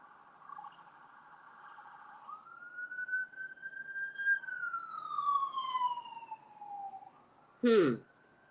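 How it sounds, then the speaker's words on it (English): A single police siren wails, rising and falling in a long sweeping tone, fairly distant, ending with a brief loud burst of noise. "The sirens."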